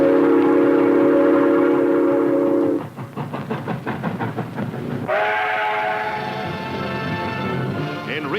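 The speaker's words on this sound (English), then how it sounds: "The Friendship Food Train rolls eastward over the Great Divide." A train rolls eastward over the Great Divide: a steady multi-tone horn or whistle blows first, then rhythmic clattering wheels on the rails, followed by another long horn blast over the rolling rumble.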